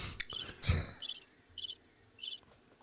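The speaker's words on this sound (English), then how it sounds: "I've been waiting for the crickets." Crickets chirp in short trilled bursts at a steady, spaced rhythm, faint against a quiet background, with a brief thump early on.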